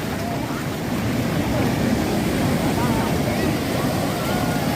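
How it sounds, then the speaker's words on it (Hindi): Sea waves surge and crash onto a beach in a loud, continuous roar of churning water, with heavy wind buffeting the microphone throughout. "कितने जोर से पानी आ रहा है।"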